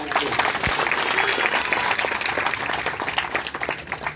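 A church congregation claps loudly and steadily throughout, dense sustained applause filling the sanctuary during a Sunday sermon service.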